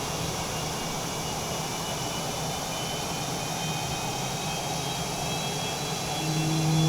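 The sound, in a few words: F/A-18 Super Hornet jet engine running, MS Flight Simulator 2020 video game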